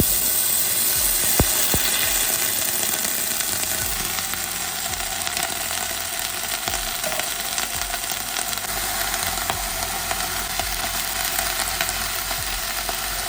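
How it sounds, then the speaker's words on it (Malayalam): Broccoli and cauliflower stir-frying in a pan with very little oil, giving a steady, close sizzle and hiss that runs unbroken throughout, with occasional faint clicks from stirring and no voices. "നമുക്ക് നമ്മുടെ സ്റ്റിർ ഫ്രൈ ഉണ്ടാക്കാം. വളരെ കുറച്ചെണ്ണ മതി."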